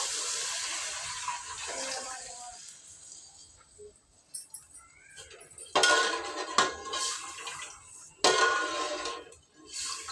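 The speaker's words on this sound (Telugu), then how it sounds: "ఒకటికి రెండు గిన్నెలు నీళ్ళు పోసేసిన" Clinks of metal pots, then two gushing bursts of water being poured into a pot, close by, with brief utensil knocks between.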